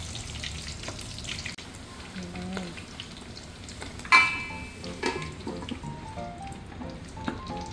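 Pork lechon kawali deep frying in a pan, a steady crackling sizzle of hot oil with occasional louder pops and a clink of cookware, while a voice speaks faintly over it.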